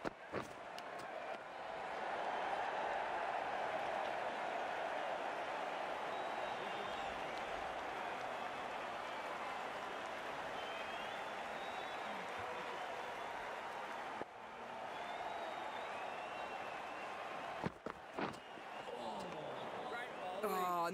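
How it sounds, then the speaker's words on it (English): Excited crowd at a cricket match cheering and applauding after a boundary, a sustained loud wash of claps and shouts that dips briefly near the end before swelling again. "It's going to be hard for the bowler to focus with the crowd this excited."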